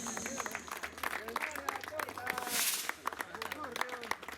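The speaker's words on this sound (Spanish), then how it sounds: "Fuertes aplausos, señores y señoras." Scattered clapping from guests at a birthday party breaks out in quick, uneven bursts, with a voice speaking over it and music-like tones underneath throughout.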